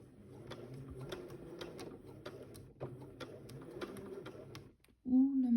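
A home sewing machine stitches two parallel lines along a shirt's button placket, a steady rapid clatter of needle strokes, slightly strained, that stops before a voice speaks close at the end.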